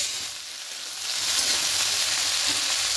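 Vegetables for a spinach curry with fish head frying in a pan, a steady dense sizzle that grows louder after the first second and holds, close by with no talking.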